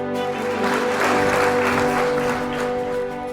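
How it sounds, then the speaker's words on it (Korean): Welcoming applause from an audience at a company business presentation, a steady, moderately loud patter of many hands over a sustained musical backing, with no talking. "환영의 박수 부탁합니다."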